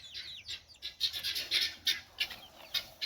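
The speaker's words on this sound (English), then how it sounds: "That sure looks like a chicken. A hen" Several hens cluck and chirp in short irregular bursts, fairly quiet and close, with no talking.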